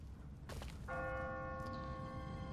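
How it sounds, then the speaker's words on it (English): A church bell in The Walking Dead video game rings out once with a bright metallic strike, its long ringing tone sustaining and slowly fading over a low background rumble. "What kind of church bell goes off at 20 past the hour?"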